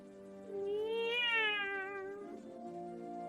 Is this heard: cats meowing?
yes